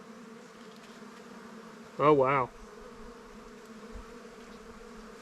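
Honey bees hum steadily around an open hive frame during a nuc check, a continuous close buzz throughout, briefly interrupted by a short exclamation from a person.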